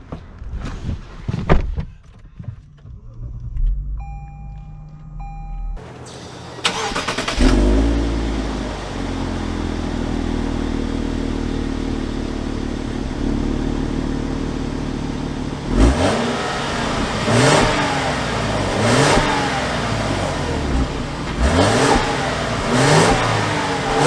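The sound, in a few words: 2021 Lexus LS 500 F Sport engine starting and driving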